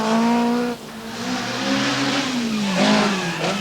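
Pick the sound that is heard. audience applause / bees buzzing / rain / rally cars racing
rally cars racing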